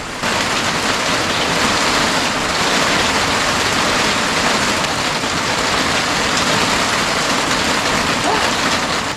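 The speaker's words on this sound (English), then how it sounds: "Oh yeah, it's hailing." Hail falling outdoors over a garden of seedlings, a steady dense hiss of pelting ice on surfaces, loud and continuous throughout with no talking.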